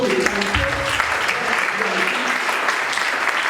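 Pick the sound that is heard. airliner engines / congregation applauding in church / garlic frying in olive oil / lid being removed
congregation applauding in church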